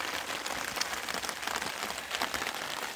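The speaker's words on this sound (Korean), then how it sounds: "비가 오는 텃밭에서" Rain falls on a vegetable garden as a steady, dense patter of drops spread evenly and continuously, moderately loud and close, with no voices.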